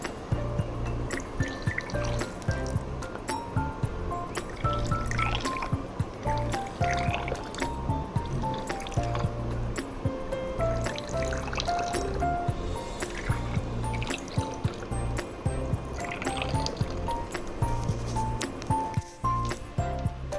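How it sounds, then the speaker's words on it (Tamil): Water pours and gurgles steadily into reused waste bottles for a DIY planter project, with continuous splashing and dripping up close and no talking. "வாட்டர் ஃபில் பண்ணிக்கோங்க எல்லா பாட்டில்ஸ்லேயும்."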